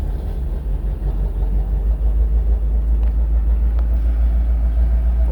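A boat engine idles steadily after a cold start, a constant deep rumble with no talk over it.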